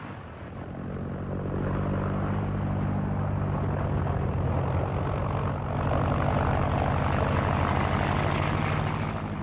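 Three engines of a Junkers Ju-52 running in a smooth, even drone while taxiing, a loud, steady, rumbling roar that holds throughout with no voices.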